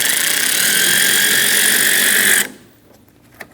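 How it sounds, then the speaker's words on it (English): Rapid steady ratcheting from a 10mm socket wrench loosening the negative battery terminal in the engine bay of a 2008-2015 Scion xB, a continuous close clicking whir for about two and a half seconds, then stopping with a faint click after. "Using a 10mm socket, loosen the negative terminal."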